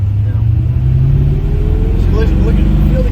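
Engine of a supercharged 1966 Shelby GT350 running loud and close, a steady low rumble with a rising tone as it revs, while people talk over it.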